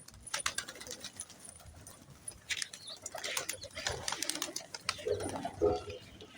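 Pigeons feed on scattered grain, giving soft cooing and scattered light pecks and clicks, faint and close in a quiet outdoor setting.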